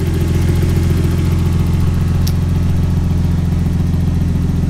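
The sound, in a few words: Nissan Skyline R32 RB20 engine idling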